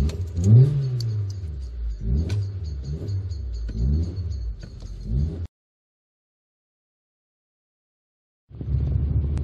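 A 1999 Honda Civic 1.4i engine revs and accelerates while driving, rising and falling in pitch through several gear pulls, heard from inside the car. The sound cuts out for a few seconds, then returns.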